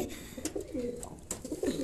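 Pigeons in their pen coo in soft, repeated throaty calls, several overlapping coos close by against a faint background, no speech.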